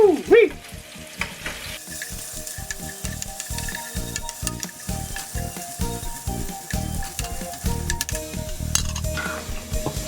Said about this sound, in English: So while that bacon is over there simmering away and smelling great